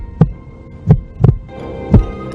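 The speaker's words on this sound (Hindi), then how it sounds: "कदमों की आवाज और अंधेरे में चलती परछाइयां सबके दिल की धड़कन तेज कर रही थीं" Four deep, thudding heartbeats pulse in an uneven, tense rhythm, loud and close, over a low hum with no other sounds.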